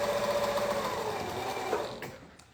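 A home sewing machine hums steadily while chain-piecing flying geese quilt blocks, a close, quiet motor whir with rapid stitching pulses that trails off near the end.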